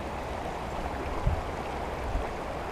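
A stream and small waterfall in a forest at Loch Ness rush steadily with broadband noise, with brief low thumps from handling or wind breaking through the even flow.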